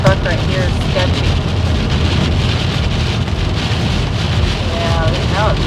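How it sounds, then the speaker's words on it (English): Heavy rain and strong wind batter a vehicle on the road, a loud, constant roar of drumming water and gusts, with voices talking over it at moments. "Yeah, now it's really raining."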